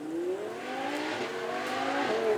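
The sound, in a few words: Audi R8 V10 engine at Beaulieu Supercar Weekend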